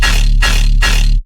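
A dry bass loop from a modal-style electronic track plays three loud, even quarter notes in a row. Each note is a deep, sustained tone with bright harmonics, and there is no added spatial effect.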